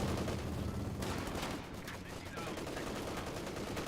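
Maxim machine gun fire in the World War II strategy game Company of Heroes 2 mixes into dense battle noise: rapid, continuous bursts of gunfire at moderate volume, with some brief lulls.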